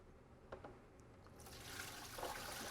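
Liquid sanitizer solution is poured into a SaniServ 500 Series twist ice cream machine, starting as a faint trickle with a few small splashes, then swelling into a steadier, louder gush of sloshing fluid.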